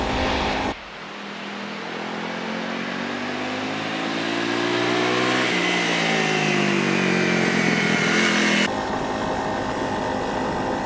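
A Honda CRF250 Rally 250cc motorcycle engine drones steadily while riding, its pitch rising and falling with the throttle, loud and close with wind noise.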